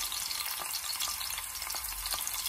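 Garlic frying in hot oil in a home kitchen, a steady close crackling sizzle with scattered louder pops and a few stirring scrapes, no voices.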